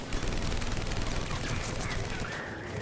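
Rapid, continuous gunfire fills a firefight in the video game Mass Effect 3, a dense loud barrage of overlapping shots with no pause, close and intense throughout.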